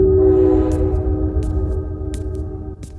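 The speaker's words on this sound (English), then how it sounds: "He felt the steady build of the wheels over the tracks as the train made its retreat" A train runs over tracks as an audio drama sound effect, a loud, close low rumble with sustained tonal hum and a few sharp metallic clicks from the wheels over about three seconds.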